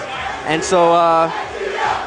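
A crowd cheers for the ATL team at a competition final round. One loud, sustained shout rises over the crowd noise, and a voice speaks briefly.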